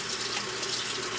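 Warm tap water runs steadily into a sink or cup while makeup brushes are wetted, a continuous close hiss and splash with no pauses.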